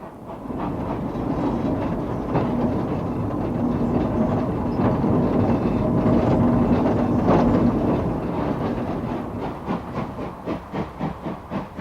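A train works along the Halesowen railway line, a steady heavy rumble building to a loud pass, then rhythmic wheel beats thump out clearly toward the end.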